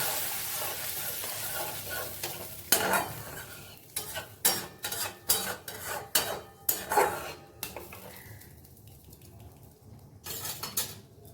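A spoon scrapes and knocks repeatedly against a pan as curry is stirred in sizzling oil, a rhythmic run of close clinks over a continuous fry.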